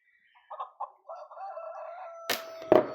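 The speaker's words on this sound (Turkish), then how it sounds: "Gördüğünüz üzere tavuklarım ötüyor." Chickens in Farming Simulator 23 cluck in short bursts, followed by a louder squawk and a brief crow near the end, close by with no talking.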